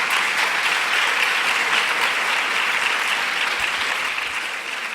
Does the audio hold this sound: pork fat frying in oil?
no